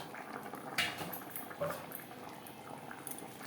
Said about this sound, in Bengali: গ্রেভি ফুটে ওঠা পর্যন্ত অপেক্ষা করব